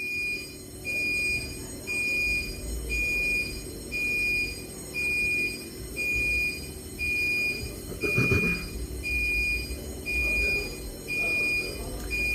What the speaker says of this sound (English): Fire alarm drill.